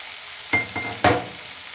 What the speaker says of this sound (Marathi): आणि आता टाकूया शेंगदाण्याचा कूट